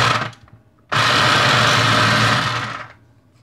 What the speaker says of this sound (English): And we have a jigsaw here as well